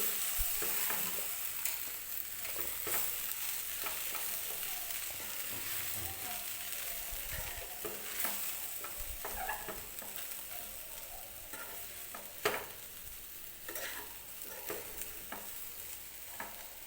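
Leftover chapati pieces tossed with fresh coriander in a pan, giving repeated scraping stirs over a soft, steady sizzle, close and fairly loud with no voices.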